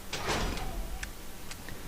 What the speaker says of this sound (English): after the cutscene, this door will open